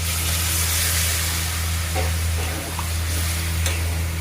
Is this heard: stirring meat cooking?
yes